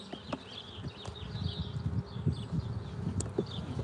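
Dense honeybee buzzing rises from an open backyard hive during an inspection, a steady close hum with scattered clicks and rustles of frames being handled.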